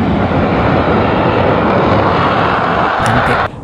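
Animated military aircraft, AC-130 gunships and fighter jets, roar overhead as a loud, continuous broadband engine rumble that holds steady before dropping away abruptly at the end.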